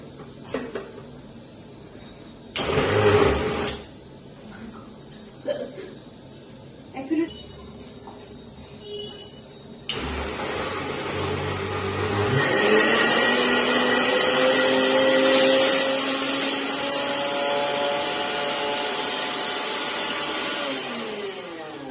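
A small mixer grinder whirs loudly as it grinds garlic, black cumin, coriander and green chilli, a sustained motor drone with a brief earlier burst. Someone talks in between.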